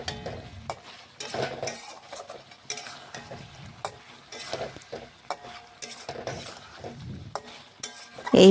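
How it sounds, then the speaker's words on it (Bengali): Mutton is stirred and fried in a kadai, with a spatula scraping and clinking in irregular strokes over a soft sizzle, close by and with no talk. "এই দেখুন এইভাবে নাড়াচাড়া করতে করতে কড়ার মধ্যেই কিন্তু মটনের জলটা শুকিয়ে গেছে"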